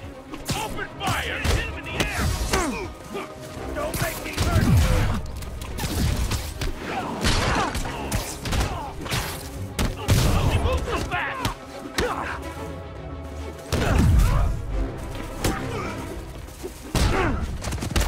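Bursts of gunfire and heavy impacts from thugs in the Marvel's Spider-Man video game, loud and continuous over eighteen seconds, with thuds, crashes and whooshes of combat mixed in and voices shouting over the action.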